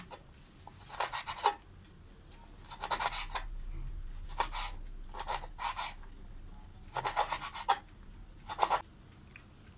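A knife slices through air-fried crispy pork belly in about six separate strokes, each a short burst of crackling crunch, close and fairly quiet, with pauses between cuts.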